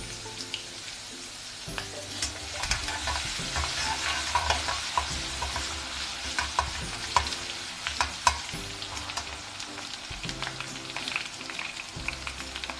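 Chopped ginger and garlic fry in oil in a pan for Indian-style vegetable macaroni, a steady close sizzle broken by scraping spoon strokes and a few sharp clinks, with no talking.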